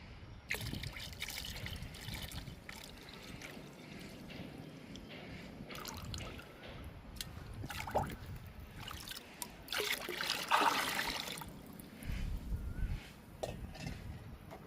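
Sour buttermilk sloshes and trickles in a bucket of water as it is stirred, with irregular splashes and a brief louder swirl midway, no talking.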